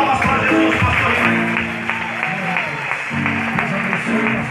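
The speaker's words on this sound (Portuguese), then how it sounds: "Queridos, que bom de aplaudir" A church congregation claps in a steady, dense wash of applause under sustained voices, likely singing or speaking, in a reverberant hall.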